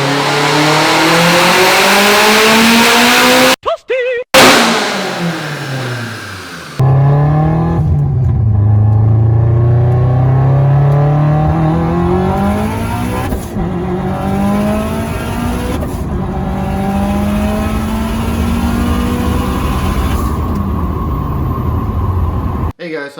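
A 2007 Subaru STi running an ETS rotated turbo kit with a 6266 turbo at over 30 psi of boost makes a full-power pull: loud, sustained engine roar rising through gears with brief breaks at shifts, close and continuous, with some talk over it.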